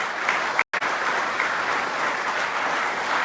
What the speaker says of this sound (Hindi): एक बार अगेन एसलीपीएस के लिए जबरदस्त तालियां